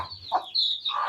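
Domestic country chickens with small chicks give a few short, close clucks in quick succession, fairly loud and alone with no talking.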